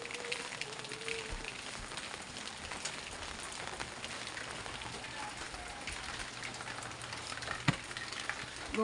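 Rain falls steadily at the seaside in the early morning. It makes a soft, even hiss of drops on surfaces with occasional louder patters, faint and continuous with no talk.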